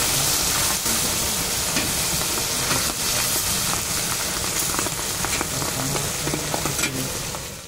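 Water poured into a pan of simmering fish gravy with cumin powder, a steady close sizzling and bubbling hiss with scattered pops, no talk.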